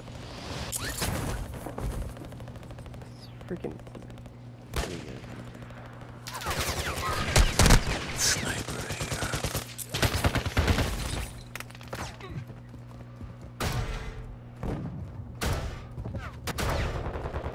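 Rapid video-game gunfire from a multiplayer shooter: repeated bursts of automatic shots and a few heavier booms, loud and close, coming in clusters across the whole stretch with a steady low hum underneath.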